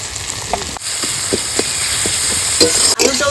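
Steady close sizzle of tomato, ginger, garlic, turmeric and salt sautéing in a pan for an egg paneer curry, with repeated scraping stirs every half second or so and no talk.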